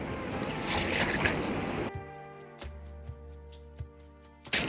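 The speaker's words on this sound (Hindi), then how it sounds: "अब इसके अंदर 1 कप पानी डाल देते हैं।" Water pours into a container in a steady rush for about two seconds, then stops, leaving a quiet hum and a few soft clicks.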